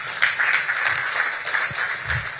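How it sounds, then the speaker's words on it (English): Audience at a Tony Elumelu Foundation entrepreneurship empowerment event gives a round of applause, steady clapping of moderate loudness with a few distinct claps standing out. "I think that deserves a round of applause."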